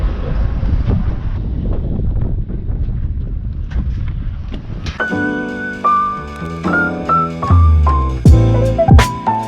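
Wind gusts across a street in Brno, Czechia, a low rough buffeting on the microphone for the first half before it gives way to other sounds.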